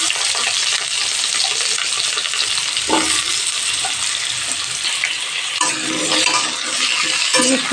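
Dried spices frying in hot oil in a wok for a village-style pumpkin and potato dish, a close, steady crackling sizzle with occasional stirring scrapes and clinks and no voices.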